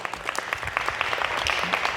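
Audience applause after two people are called down toward a presentation stage, a steady patter of many hands clapping throughout, fairly close and even in level with no voices on top.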